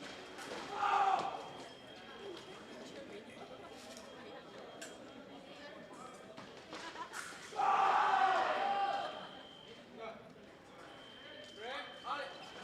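Spectators cheer and shout in bursts around a fencing piste at a university fencing competition, with loud swells near the start and again in the middle over steady crowd chatter and commentary.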